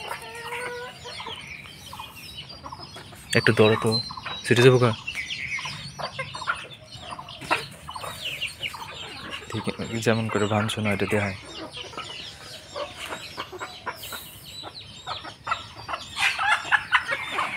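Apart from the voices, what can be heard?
chickens and roosters clucking at a village market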